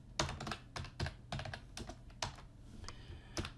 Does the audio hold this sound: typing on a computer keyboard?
yes